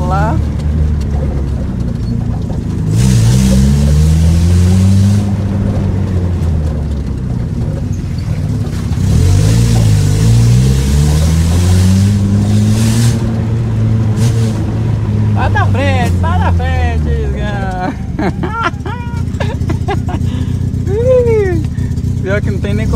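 A Chevrolet Celta with a loud exhaust revs hard in repeated rising and falling sweeps, close and loud, with someone talking between the revs.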